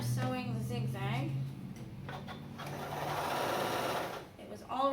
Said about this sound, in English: I'm just going to press the picture of the zigzag, and I can start sewing the zigzag.